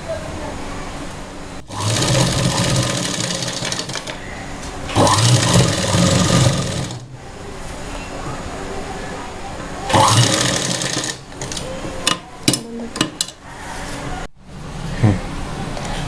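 Sewing machine stitching a blouse's fabric lining onto canvas, several bursts of steady motor whirring lasting a few seconds each, broken by short pauses and small clicks and handling noises.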